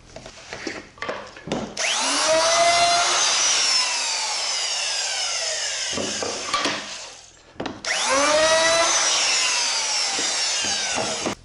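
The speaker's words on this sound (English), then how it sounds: "I'm using a 1/4 inch roundover bit, and it's not set to the full depth. and just take a pass from each face." Router fitted with a 1/4 inch roundover bit, set shallow, edging a cabinet drawer shelf with one pass per face: two sustained high whining cuts, loud and close, with a short pause between passes and no talk.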